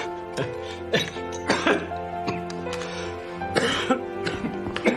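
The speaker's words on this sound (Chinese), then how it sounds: "这怎么总咳嗽？" A series of harsh coughs and throat clearing, close by, coming in repeated bursts over a few seconds.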